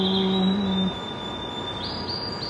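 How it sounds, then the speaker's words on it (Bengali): A bird sings at a coffee shop, giving thin, sustained high whistling tones over a steady ambient hum, with a lower brief tone at the start. "পাখির আওয়াজ খুবই সুন্দর"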